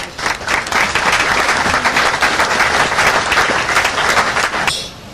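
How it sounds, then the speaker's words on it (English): Loud sustained audience applause at a community awards programme in Millstreet, dense close clapping that holds steady then fades out at the end. "I would like you to give her a round of applause"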